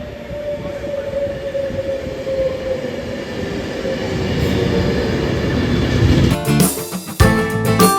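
A train arriving at a London station rumbles in with a rising roar, then squeals and clanks to a halt near the end, no talking.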